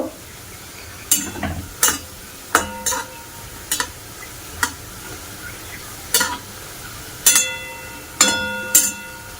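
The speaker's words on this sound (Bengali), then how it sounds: "দেখো মিষ্টিগুলো ভাজা করে নিচ্ছি আর একদম লাল লাল করে নিচ্ছি।" Khir jam sweets made from wheat flour fry in oil in a wok, a steady low sizzle broken by a dozen sharp clinks and scrapes of a spatula against the pan, close up, with no talk.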